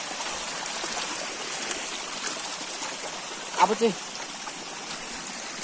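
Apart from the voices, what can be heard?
flowing stream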